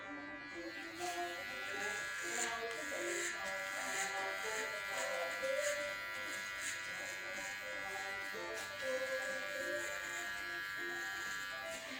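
Hair clippers fitted with a zero guard tidy up a neckline, giving a steady, close electric buzz that runs the whole time with a faint voice underneath.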